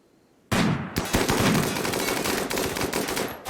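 Dense volley of automatic gunfire in RimWorld, a sudden burst of rapid rattling shots that starts after half a second of quiet and keeps pounding loudly to the end.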